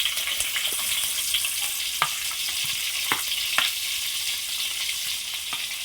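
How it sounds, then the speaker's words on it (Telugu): Chopped onions with biryani spices frying in oil for a paneer biryani, a continuous bright sizzle broken by scattered clicks of a spoon stirring in the pan. "కట్ చేసుకున్న ఉల్లిపాయ ముక్కలు లైట్గా ఫ్రై చేసుకుందాం."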